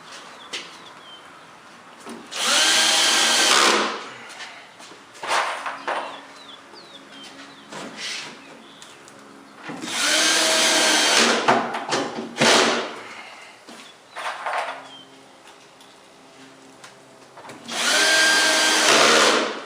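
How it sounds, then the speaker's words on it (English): A power drill drives screws into a wooden batten while a solid landsailing or iceboat wing is built, three loud sustained whirring bursts of a few seconds each, separated by quieter knocks and handling noises, with no talking. "Basically, I just put the rest of the screws in and then go to the next batten."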